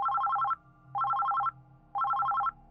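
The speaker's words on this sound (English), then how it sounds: "when a call from unknown blared from my cell phone. It was a ringtone I hadn't heard before." Cell phone ringtone from an unknown caller, three bursts of rapid trilling electronic tones about half a second long with short pauses between, loud and close with no talking.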